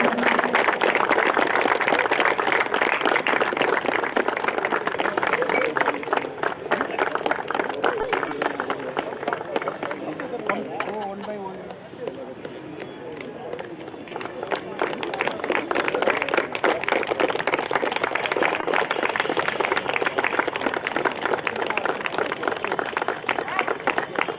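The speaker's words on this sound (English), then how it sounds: "A big applause for the referees." Applause for the match referees at a Santosh Trophy football match between Goa and Karnataka, a crowd clapping steadily and fairly loudly throughout, dipping briefly midway before swelling again, with an announcer speaking over it.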